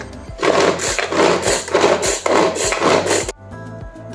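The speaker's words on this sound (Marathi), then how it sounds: "तर हे बंद करते आणि मस्त त्याच्याने बारीक कांदा आणि टोमॅटो चिरून घेते" A manual chopping machine minces onion and tomato with rhythmic rasping pulls, about six quick bursts of rough whirring chops close by, ending abruptly in near silence.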